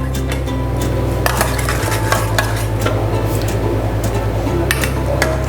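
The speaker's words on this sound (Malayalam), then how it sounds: "ഇനി നമുക്കൊന്ന് മിക്സ് ചെയ്യാം." Chicken marinade and oil being mixed for a pepper-sauce chicken steak, a steady wet stirring and squishing with faint scrapes against the bowl, close and continuous with no talking over it.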